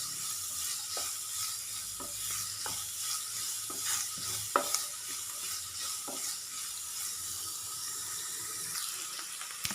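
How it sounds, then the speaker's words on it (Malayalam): Onions frying in a pan for masoor dal curry, stirred now and then: an even, fairly quiet sizzle with a few sharp utensil knocks and scrapes, no voices. "നന്നായിട്ടൊന്ന് ഇളക്കി കൊടുക്കാം"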